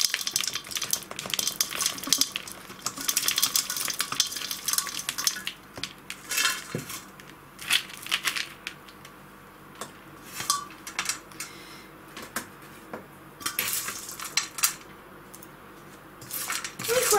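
Orchid potting substrate of bark chunks being poured into a pot, with repeated bursts of clattering, rattling pieces tumbling and settling close up, separated by short pauses.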